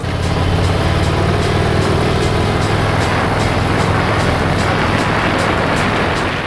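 A big-engined Harley-Davidson motorcycle rumbles along at low RPM on a mountain pass road, its deep, steady engine drone mixed with strong rushing wind noise.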